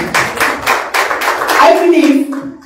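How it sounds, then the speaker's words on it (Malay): A church congregation claps during a sermon with Malay and Tamil translation, giving several bursts of clapping in an uneven rhythm before a voice rises over them and carries the remainder. "So berikan tepukan untuk diri anda."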